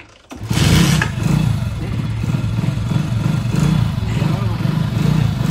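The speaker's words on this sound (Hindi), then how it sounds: "लो जी मुंडा लगा स्टार्ट करना मोटरसाइकल" Motorcycle engine started with a sharp catch, then running with a steady, loud, rumbling idle close by, and voices talking over it.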